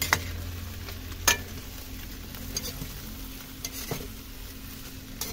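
Food stirred in a hot pan while preparing balbakwa, a steady close sizzle with scraping stirs and a few sharp clinks of the utensil against the pan, no voices.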